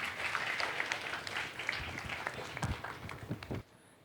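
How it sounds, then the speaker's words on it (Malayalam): An audience at a regional singing competition in Mumbai applauds an announcer with a dense, steady patter of many hands clapping, fairly distant and moderate in level, then stops abruptly near the end. "അദ്ദേഹത്തിന് നല്ല കൈയടി കൊടുക്കും."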